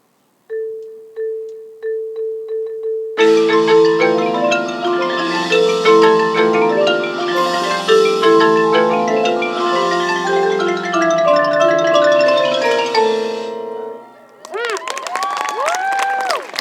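High school marching band percussion pit playing alone: a few metronome-like clicks, then mallet keyboards and percussion in a busy melodic passage, ending with cheers and whoops.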